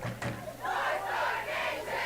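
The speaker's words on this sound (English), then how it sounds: "the home crowd starting to get loud as the offense picks up a first down" Home crowd at a high school football game between Hamilton West Hornets and Nottingham Northstars, a swelling shout of many voices rising after a brief sharp sound, loud and sustained to the end.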